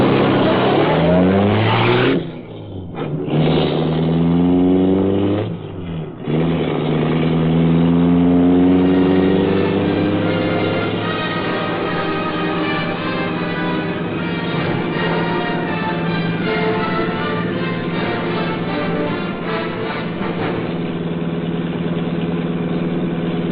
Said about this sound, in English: The great car roared into life.